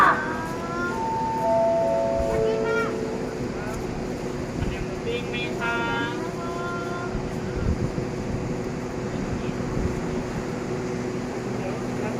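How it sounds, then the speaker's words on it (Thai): Shrill metallic squeals of train brakes come in two bursts over a low rumbling background, with people talking at times, as a Thai express train with a Hitachi 4504 locomotive stops at Ratchaburi. "โอ้โหเสียงเบรกนะครับแม่"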